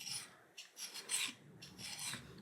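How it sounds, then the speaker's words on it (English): A hand file rasps across a rusty carbon steel knife in short, repeated scraping strokes, about four or five passes, quiet and close with no talking. "just get your file at the right angle"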